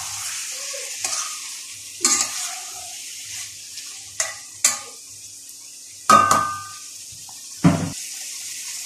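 Spiced liver stirred in a frying pan, a low steady sizzle broken by repeated spatula scrapes and clanks against the pan, roughly seven uneven strokes spread across the span, close and distinct.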